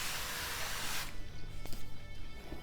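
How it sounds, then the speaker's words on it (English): Cooking spray hisses onto a baking sheet in one long, close burst for about a second, then stops, leaving quieter handling noises and faint knocks. "I've got a baking sheet that I'm gonna spray with some cooking spray."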